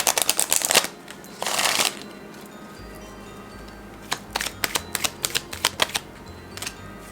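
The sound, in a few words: shuffling tarot cards to draw clarifiers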